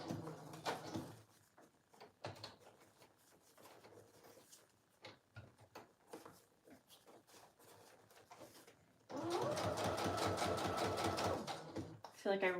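A sewing machine stitches pages of a handmade Hawaii travel journal, with soft handling noises and ruffling of material early on, then a loud, steady burst of machine stitching near the end.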